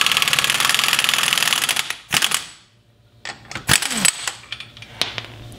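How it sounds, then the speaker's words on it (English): An impact gun rattles loudly and closely for about two seconds while removing the axle nut from a car hub during a ball joint replacement, followed by short bursts, clanks and metallic handling noises. "because I have an impact gun, I'm just going to use this because it's going to take 2 seconds to remove it"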